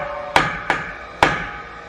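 Three hard hammer blows driving reinforcement into a drilled hole during house building in the Philippines, sharp ringing metallic strikes at an uneven pace over a faint background hum, no talking.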